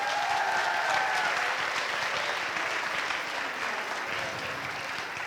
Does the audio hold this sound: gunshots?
no